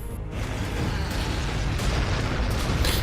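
A unit fires in Warhammer 40,000: Gladius: a heavy booming explosion erupts and rolls on as a dense rumbling blast, with several sharper bursts cracking through over about three seconds.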